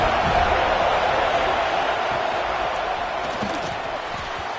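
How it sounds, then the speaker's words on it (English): A home crowd roars steadily at a college game against SMU, a dense, loud wash of cheering that holds throughout and eases only slightly toward the end. "how nice is it to have the home crowd going absolutely bananas?"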